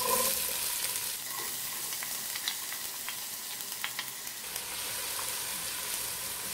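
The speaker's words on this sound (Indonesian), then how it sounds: "kita akan tumis dulu bawang merah yang tadi sudah kita potong-potong" Sliced shallots sautéing in hot cooking oil in a pan for spicy beef rica rica, a steady bright crackling sizzle with occasional light pops and faint stirring, close and even throughout.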